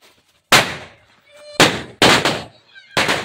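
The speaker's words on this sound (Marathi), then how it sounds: "आता एक लास्ट फटाका राहिला, लवंगी फटाका" Lavangi firecrackers bursting nearby, with four sharp, loud bangs at irregular intervals, each followed by a brief decaying crackle, and faint high-pitched sounds between the blasts.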